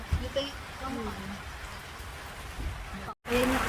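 Steady stormy rain patters and hisses nearby at a beach in Shoalhaven, with faint voices murmuring underneath.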